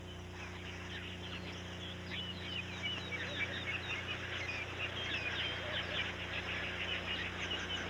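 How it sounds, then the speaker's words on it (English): A huge colony of nest-building birds crowds every bush over fifty acres, producing a dense, continuous chatter of many small chirping calls that builds slightly in loudness over a low steady hum. "Every bush within 50 acres is alive with birds."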